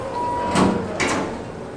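A Dover elevator door slides shut in a lakeside Lake Ozark, Missouri building, two short whooshing bursts of door movement over a steady hum, with a faint tone earlier that may be the chime.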